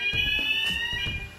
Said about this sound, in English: for a fingers out of the machinery alarm, I guess it does its job